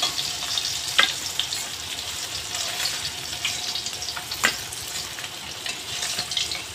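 Fish frying in hot oil in a pan, a continuous crackling sizzle with a couple of sharp scrapes or clinks, close by and without talk.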